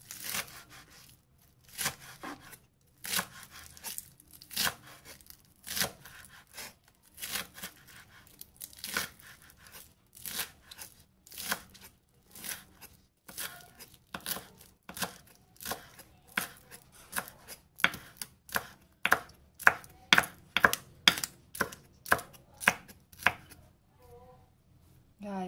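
A kitchen knife chops green onions finely on a cutting board in steady, rapid strokes that grow louder and quicker toward the end, with no talking over it.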